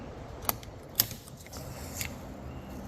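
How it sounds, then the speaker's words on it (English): Wrench tightening the pedals on a KINGBULL Literider 750W fat tire folding electric bike, turned upside down, giving a few sharp metallic clicks and ratchety ticks at spaced intervals over a quiet background, with no talking. "Tighten them up with provided wrench."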